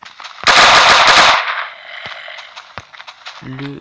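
A burst of rapid automatic gunfire from a Minecraft PE gun mod rattles loud and close for about a second, followed by a few sparse single shots and a short electronic game tone.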